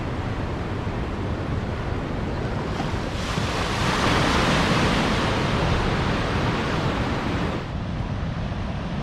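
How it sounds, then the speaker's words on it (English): Ocean waves wash onto the beach at Manhattan Beach, a loud, continuous roar of surf that swells in the middle and eases again, with wind buffeting the microphone and no voices. "let the ocean have the floor"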